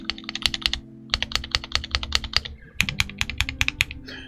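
Rapid, steady typing on a TG67 v3 mechanical keyboard with lubed Gateron switches, crisp clacky keystrokes close up with a brief pause midway, no voices.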